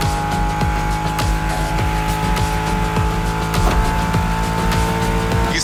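A Ford Mustang Shelby GT500 roars at high revs in The Crew Motorfest, its loud engine droning continuously while tires squeal and skid in repeated short bursts, close and dense throughout.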